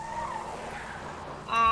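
A car in the video game Borderlands 2 skids and its tires squeal while the engine drones, a brief slide ending in a sudden louder burst of engine noise.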